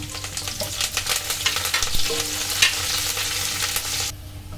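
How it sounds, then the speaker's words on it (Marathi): Garlic and curry leaves fry in a pan for a raw jackfruit sabzi, a steady close sizzle with crackles and spatula scrapes throughout, dropping off sharply near the end. "ही बघा आता भाजा नेली ना लसूण."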